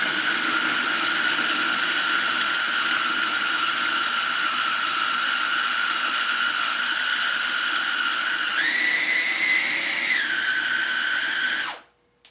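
A kitchen blender whirs steadily at high speed, grinding chickpeas for falafel, its loud motor whine rising in pitch for a couple of seconds near the end before it cuts off abruptly.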